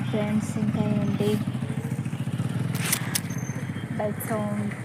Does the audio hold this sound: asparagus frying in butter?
no